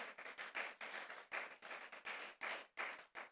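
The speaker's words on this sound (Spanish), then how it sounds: "Y si le va a dar ese aplauso al Señor," A church congregation claps in a rhythmic, regular beat, faint and fairly distant, with no voices over it.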